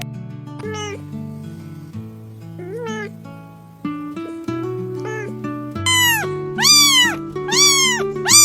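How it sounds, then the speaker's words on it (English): A cat makes a run of unusual meows, starting with low, wavering calls and building to several loud, high, sweeping cries near the end, close and alone. "this cat has the most unusual meows ever"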